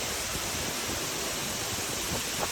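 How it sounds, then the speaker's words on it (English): A powerful waterfall in the Bwindi rainforest of Uganda roars as a dense, steady rush of falling water, loud and continuous with no voices. "That's an incredible waterfall!"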